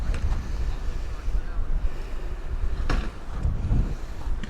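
Wind blows hard at a golf driving range, rumbling loudly against the microphone in constant gusts with a few sharp knocks.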